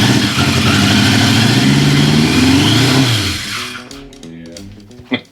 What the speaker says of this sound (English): Those carburetors are definitely not in sync. That's why it's backfiring like that.